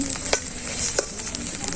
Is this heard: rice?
yes